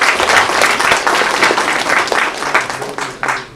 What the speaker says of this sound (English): Have a huge round of applause for them.